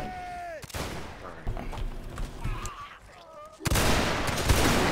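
Musket volleys in the Mount & Blade Napoleonic Wars video game: a voice briefly at the start, then a crackling rolling fusillade of many shots together, and later a second loud ragged volley that keeps going until the end.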